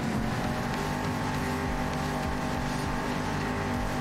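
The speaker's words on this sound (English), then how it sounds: "it's so hard when I hear that engine right on my tail" An opponent's car engine in a racing video game drones steadily close behind, a continuous loud hum with layered harmonic tones and no pauses.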